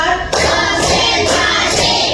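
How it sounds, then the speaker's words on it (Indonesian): Children in a primary school class clap their hands together in a loud, close, fast burst that continues for about two seconds. "Tepuk 1. Tepuk 2. Tepuk 3. Tepuk 4."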